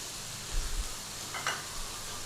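Curry base with mixed powder frying in a pan for a British Indian restaurant dish, a low steady sizzle with a couple of soft stirring bumps, moderately quiet.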